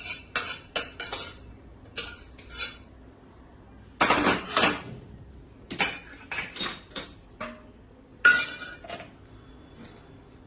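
A spoon clinks and scrapes against a bowl in short, irregular bursts while spiced tempering is mixed into Gujarati handvo batter of rice, chana dal and bottle gourd; close and fairly quiet, with no talking.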